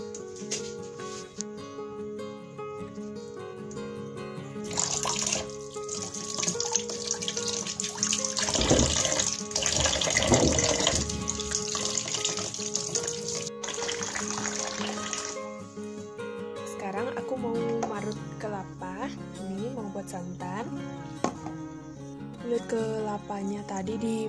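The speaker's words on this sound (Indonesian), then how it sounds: "Jadi sekarang aku mau cuci dulu ya." Tap water runs while food for a banana and coconut milk dish is washed, a rushing stream with splashing that grows and fades. Faint talk and background sounds sit under it.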